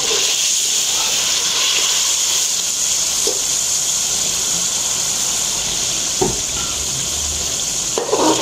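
Chicken cooking in a hot pan after water is added, giving a steady, loud hiss and sizzle with a few faint clinks of stirring.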